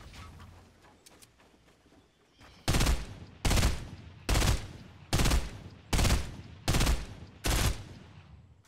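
Gunfire in the Fortnite video game: seven loud, evenly spaced shots roughly half a second apart, each a sharp burst, following a quieter stretch of game ambience.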